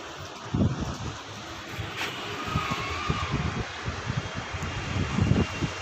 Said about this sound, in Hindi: ऐसा आंधी आंधी आ रखी है बहुत ज़्यादा